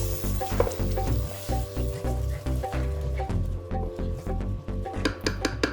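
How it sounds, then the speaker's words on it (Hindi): Whisked yogurt and spices fry with tomatoes in a pan, a close, steady sizzle broken by repeated scraping and stirring strokes. "आपके मसाले भी भुन रहे हैं और साथ में दही का कच्चापन भी मर रहा है"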